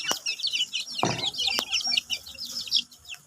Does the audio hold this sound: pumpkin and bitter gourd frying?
no